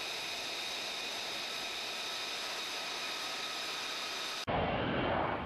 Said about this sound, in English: the Air Force's newest jet hovering 100 feet above ground